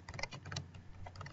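Quiet typing on a computer keyboard, a quick run of soft key clicks over a low background hum.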